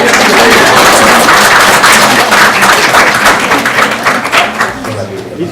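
Hand clapping at a board meeting rings out loud and close as a dense patter of applause, with talk mixed in and the claps thinning toward the end.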